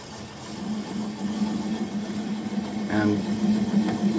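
A wood lathe turns a live-edge alder bowl at about 200 RPM, giving a steady low hum throughout with someone talking over it.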